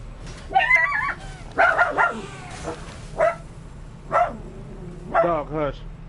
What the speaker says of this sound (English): Dog, hush.